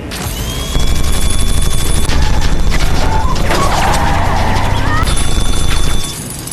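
A film scene of gunfire hitting a bulletproof car: a sustained, dense barrage of sharp impacts and crashing hits, loud and continuous for several seconds under a thick layer of action sound, then cutting off abruptly.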